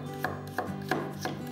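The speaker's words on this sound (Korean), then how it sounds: "당근 반개도 채 썰어주세요" Half a carrot being julienned with a kitchen knife on a cutting board, four evenly spaced crisp chops, close and quiet, with no voices.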